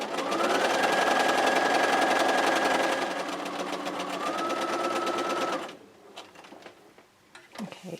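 Home sewing machine running in steady fast bursts while stitching a raw-edge square quilt, a dense mechanical chatter that pauses briefly mid-seam, then stops, leaving faint handling clicks and fabric rustle.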